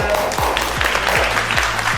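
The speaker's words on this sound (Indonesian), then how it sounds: "Boleh beri tepuk tangannya" Brief audience applause at an iPhone 13 product launch event in a Surabaya hotel, continuous clapping over a thumping bass-heavy music beat.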